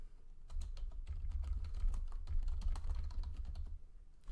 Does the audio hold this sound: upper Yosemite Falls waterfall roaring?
no